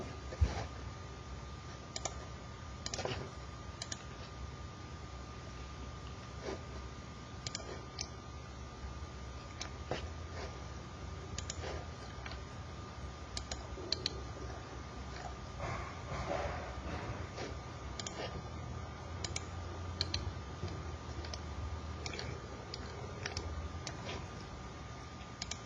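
Computer mouse clicks and occasional keyboard taps sound sparsely and faintly over a low, constant electronic hum and faint whine, irregular and close.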